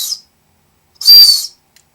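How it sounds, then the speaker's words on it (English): A survival whistle built into a knife handle, alongside a compass and ferro rod, gives one loud, shrill blast of about half a second close by, preceded by the brief tail of an earlier blast, with silence between and no talking. "It has a survival whistle"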